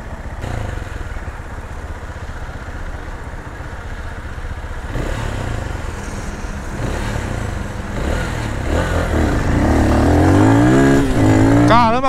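A Honda CG 160 NOVA SHI 175 EFI motorcycle engine runs steadily close by, then revs higher with a rising, climbing whine toward the end, loud and upfront.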